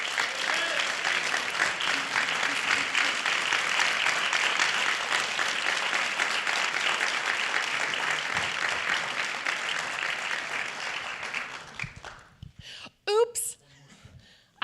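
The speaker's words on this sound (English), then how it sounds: "let us give them a round of applause for helping our finalists deliver these" Sustained audience applause at the 2025 BarkTank pitch event honouring the coaches who helped the finalists, a broad even wash of clapping that fades out near the end, followed by a few louder close sounds.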